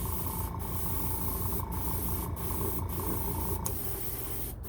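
An Iwata Eclipse dual action airbrush sprays brown paint onto a replica Rolls Royce jet engine part in a steady close hiss, broken by several short regular gaps as the trigger is released and pressed again.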